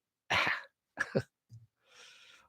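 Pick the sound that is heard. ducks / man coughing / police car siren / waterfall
man coughing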